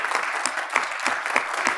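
Audience applause at a community meeting honoring board election candidates, a steady dense clapping that fills the whole stretch with a few louder bursts.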